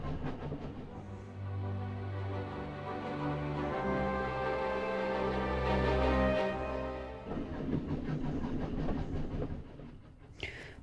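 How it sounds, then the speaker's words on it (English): A train rolls slowly and steadily across the Russian countryside, with a continuous rumbling drone and rhythmic clatter of the wheels on the rails that swells and then fades. "the train moving on its slow and steady way"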